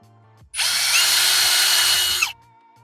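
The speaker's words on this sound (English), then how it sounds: "I'm gonna widen this hole first." Power drill widening a hole in a Mazda Miata dashboard panel, one steady, loud, high whine that runs for nearly two seconds close up, then stops abruptly.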